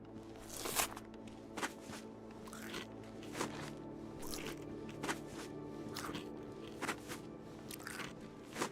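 Booted footsteps crunch steadily across the ground in the survival game DayZ, set on the snowy map Namalsk, an even walking rhythm of loud, gritty steps with no talk.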